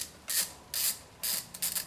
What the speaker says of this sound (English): Just grab your 8mm, loosen them off.